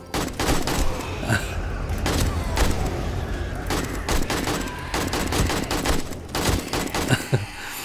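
Guns fire in the survival video game 7 Days to Die, sustained bursts of rapid shots and booming reports packed densely together, loud and close with brief gaps, a voice murmuring faintly underneath.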